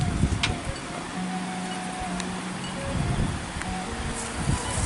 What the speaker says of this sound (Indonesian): Maaf ya sahabat kalau misalkan anginnya besar, suara anginnya itu ya.